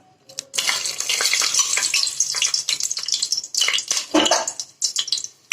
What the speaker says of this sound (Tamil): ஆயில் நல்லா ஹீட் ஆனதுக்கப்புறம் பட்டை, கிராம்பு, ஏலக்காய்